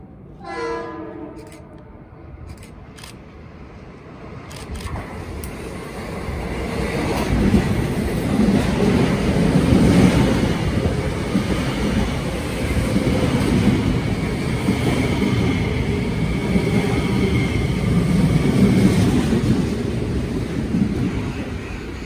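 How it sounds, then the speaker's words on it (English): A Metro-North commuter train on the Hudson Line sounds its horn in a few short blasts, then roars past trackside with a loud, steady rumble of wheels and cars that swells and holds for many seconds. "Running right behind the Poughkeepsie-bound train is another train bound for Croton Harmon"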